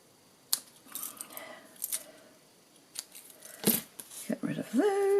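Scissors trimming the ends of paper for a papercraft pumpkin project: several close, crisp snips and rustles at irregular intervals, with a voice sounding briefly near the end.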